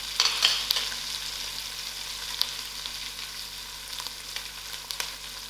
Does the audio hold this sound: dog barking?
no